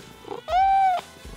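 A pet cat gives a single drawn-out meow, clear and close, rising slightly and then falling away, with a few soft room noises before and after.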